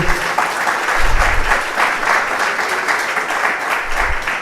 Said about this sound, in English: A round of applause, let's acknowledge him.